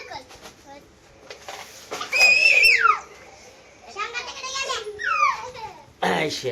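Several children shout and squeal loudly in bursts, high-pitched voices overlapping with chatter between the louder cries.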